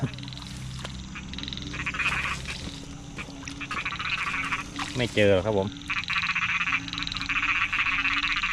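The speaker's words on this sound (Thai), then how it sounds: "กบต้องหลายตัว" Frogs croaking in a chorus during the first rain of the year, dense rhythmic trilling with a louder nearby croak midway, while someone speaks briefly over it.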